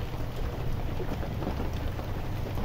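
Rain falls steadily around a nomadic family's camp as a dense, continuous hiss with soft patter and a low rumble underneath, fairly close and unbroken, with no voices.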